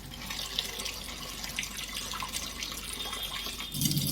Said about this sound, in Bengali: বাটিটাতে একটু জল দিয়ে দিই